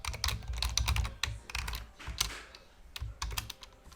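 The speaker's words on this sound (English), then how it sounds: "I am typing bad today" Computer keyboard typing of code, heard up close as clustered, clacky keystrokes with heavy thumps, in quick uneven bursts broken by short gaps, with no talking.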